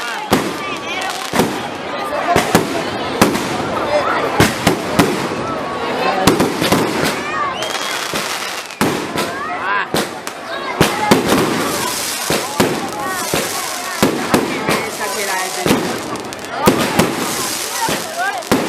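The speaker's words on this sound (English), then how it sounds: "This is a fireworks show," A fireworks show at a 28 December celebration: rapid, irregular bursts and sharp cracks follow one another, loud and close, with crackling between blasts and people's voices underneath.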